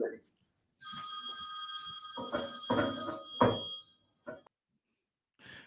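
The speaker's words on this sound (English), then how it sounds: "going to answer his phone" A telephone rings in a talk-show studio, a bright electronic trill with stacked steady tones lasting several seconds, close and fairly loud while voices talk over it.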